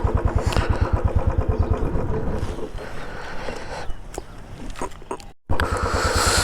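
A motorcycle engine idles with a fast, rough, pulsing beat on a rural dirt road near Ooty, heard up close. There is a brief dropout near the end before the engine note returns.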